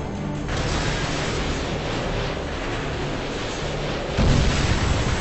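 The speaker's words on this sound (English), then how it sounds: "A UAV loaded with AGMs is en route to your position." An AGM missile strike launched from a UAV in Call of Duty Modern Warfare 2 brings a dense, rumbling barrage of explosions, with a heavier boom hitting near the end.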